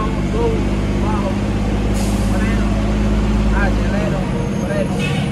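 Air brakes hiss in bursts on a heavy truck descending a steep downhill road, the loud engine droning steadily underneath throughout.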